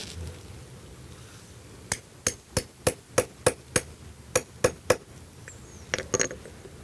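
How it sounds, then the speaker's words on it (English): A hammer drives a hole punch through a rubber huarache sandal sole, a run of about ten sharp, evenly spaced strikes, close and loud, followed by a couple of quicker taps. "hammer down."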